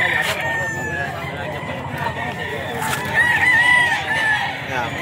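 A farm-breed rooster crows loudly and close by, drawing its call out over several seconds. Talk and other chicken sounds carry on faintly underneath.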